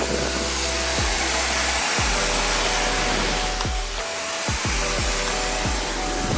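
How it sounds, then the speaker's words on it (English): Air blasts from a burst hose on an RV air compressor, a loud, steady, close rushing hiss that fills the whole stretch, with a few low thumps underneath. "That compressor packed it in. Oh, the hose did."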